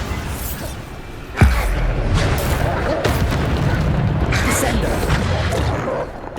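A Bombarda spell explodes in Hogwarts Legacy, a single deep boom hitting hard and close, then a sustained rumbling roar of debris and magic under continuous game noise.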